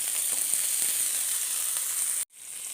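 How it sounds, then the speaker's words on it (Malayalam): Chopped shallots and green chillies sizzle in hot oil with a steady, bright hiss that holds evenly and then cuts off abruptly near the end, with no talk. "ഇനി ഒരു പത്ത് ചെറിയുള്ളി അരിഞ്ഞതും രണ്ട് പച്ചമുളക് അരിഞ്ഞതും കൂടി ഇട്ട് കൊടുക്കാം"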